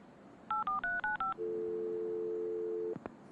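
Telephone keypad tones in the Leisure Suit Larry video game: six short dual-tone beeps in a quick run, followed by a long steady tone that cuts off with a click, clear and alone.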